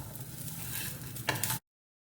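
Grated coconut frying briefly in a pan, with a steady sizzle and soft stirring scrapes that end abruptly after about a second and a half.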